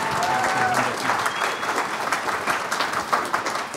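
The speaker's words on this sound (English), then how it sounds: "let's give them another round of applause." A live audience at a startup pitch event breaks into dense, sustained applause, many hands clapping continuously at a moderate distance.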